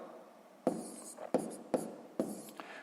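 A pen writes numbers by hand for a sixth-grade column multiplication, making four or five short, close scratchy bursts in quick succession in a quiet room.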